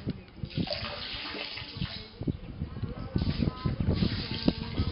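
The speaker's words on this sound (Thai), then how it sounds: "น้ำก็ไหลใน อัตราประมาณนี้นะครับ" Water gushes steadily from the outlet of a windmill-driven one-inch piston pump, a continuous splashing flow close to the mic with faint background noise and no talking.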